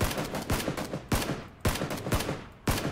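Gunshots in PUBG, sharp separate reports arriving at irregular intervals of roughly half a second, some close and loud with trailing echoes, no voices.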